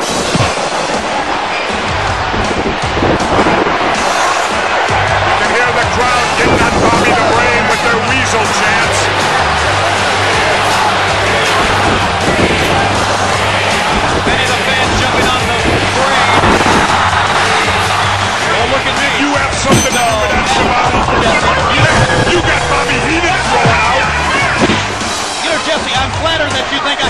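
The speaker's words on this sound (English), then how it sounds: "You can hear the crowd" Loud, constant crowd roar with thuds and slams from a wrestling video game arena, under excited commentary voices throughout.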